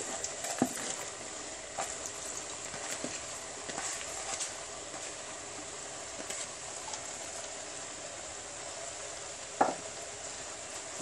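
Onion sizzles in a pan with lentils for a Moroccan rfissa, a steady close frying hiss broken by occasional scraping clicks of stirring.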